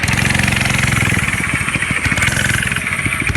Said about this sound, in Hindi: इसके बाद रॉड और कल्लू मामा घोस्ट राइडर की बाइक पर बैठते हैं और वहाँ से निकल जाते हैं।